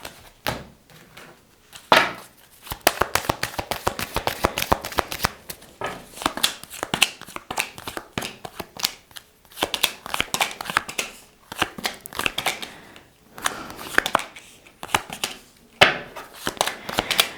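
Tarot cards being shuffled during a Cancer horoscope reading, with dense riffling bursts and flutters repeating throughout, close and fairly soft with brief pauses between handfuls.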